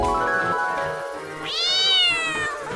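A cartoon-style cat meow sound effect plays twice: a long, steady first meow, then a louder, higher-pitched second one that rises and tails off.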